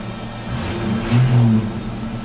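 Turbocharged 250 engine idling steadily with a brief rise in revs midway, a low droning hum close by with no talk.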